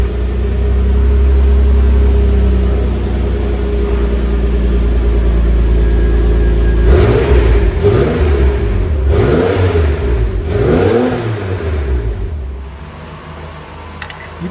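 A Toyota Supra MK4 fitted with an HKS Hi-Power exhaust, heard loud and close. It settles into a deep idle rumble, then gives three or four sharp rising and falling revs before easing back to idle.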